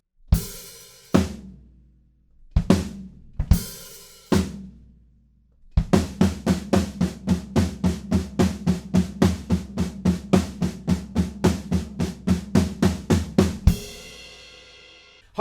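Drum kit plays a metric modulation section: a few isolated heavy crashes, then a fast, driving run of even hits that ends on a final crash, all loud and close.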